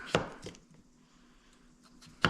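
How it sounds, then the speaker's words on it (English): Three crisp knife chops on a cutting board, potatoes being cut into cubes, with a quiet pause between the second and third. "I'm just gonna chop these up into pretty large cubes"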